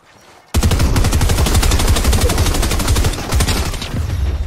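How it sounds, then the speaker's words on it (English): Rapid automatic gunfire in an online shooter video game, fired at trees, starting suddenly after a brief pause and then running as a loud, sustained rattle of closely spaced shots with no talking. "I'm going to start shooting the trees."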